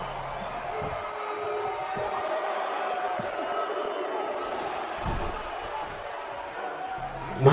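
A wrestling crowd at a BCW event cheers and roars in a steady, dense wash of noise, with scattered thumps and slams under it and a louder burst near the end.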